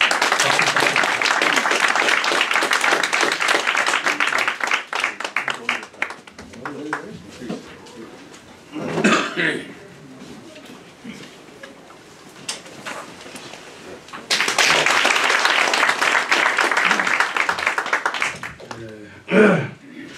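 Audience applause welcoming a former National Assembly deputy speaker to the stage at a political forum, loud and broad, swelling in two bursts with a quieter stretch between where a voice and scattered sounds come through.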